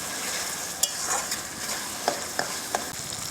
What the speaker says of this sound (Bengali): পুরো মাংস যেরকমভাবে মশলা কষে সেইভাবে মশলাটা কষবো